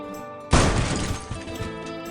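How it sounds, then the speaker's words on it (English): An SUV smashes head-on into a Honda car at a curve on a North Carolina road in the evening: a sudden loud crash and glass shattering, then debris rattling and fading. "an SUV crossed a double yellow line and smashed head-on into the Honda"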